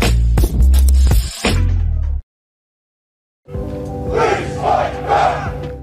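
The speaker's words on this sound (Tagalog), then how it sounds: "The crowd of masked men dressed in black came to be heard, taking over this Niagara Park for a rare public rally." A crowd of masked men dressed in black shouts together at a public rally in a Niagara park, loud chanting in two stretches separated by a brief silent cut, the second with rhythmic group yells.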